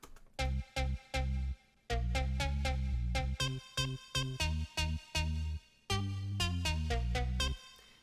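A deep bass line sampled from a recorded human voice, with a vocal, breathy tone, plays alone in short rhythmic phrases, some notes clipped and others held.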